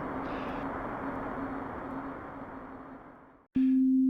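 A dense, grainy wash of tiny sampled sine-wave grains from a granular synthesizer hums steadily, then cuts out briefly before a single pure, loud sustained tone takes over.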